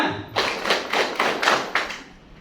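A group of high school students at a new-student orientation claps in unison, giving five sharp, evenly spaced claps in a quick rhythm that fades into quiet.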